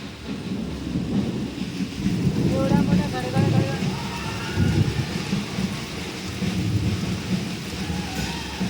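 A very heavy cloudburst-like downpour roars steadily at home during a power cut, with loud rumbling thunder rolling through and a brief tonal sound partway in, voices faintly audible beneath the constant rain.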